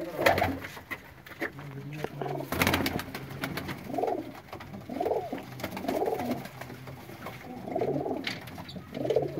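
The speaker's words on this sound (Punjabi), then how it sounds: "ਦੋਸਤੋ ਇਹ ਸਾਰੇ ਪ੍ਰਵਾਸੀ ਕਬੂਤਰ ਨੇ ਜਿਹੜੇ ਤੁਸੀਂ ਵੇਖਦੇ ਹੋ ਪਏ" Migratory pigeons cooing in a loft, a series of soft low rounded coos repeating every second or so at close range, with a burst of wing flutter and rustle partway through.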